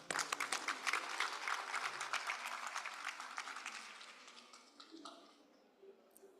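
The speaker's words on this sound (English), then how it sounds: "Shall we give them a round of applause?" Audience at a food systems conference side event applauding, a full round of clapping that swells at first and then gradually thins out and fades.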